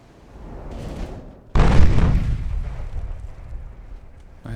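Heavy naval guns boom in Ultimate Admiral: Dreadnoughts, including 4-inch guns: a rumbling lead-in swells into one loud, close blast that rolls off into a long decaying roar, with a second sharp crack near the end.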